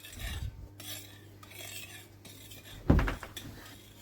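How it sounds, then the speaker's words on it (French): Cake batter for a bacon cake being stirred in a bowl, with soft scraping and clinking of a utensil against the bowl, a louder knock near the end, no talk. "Voilà, on mélange bien."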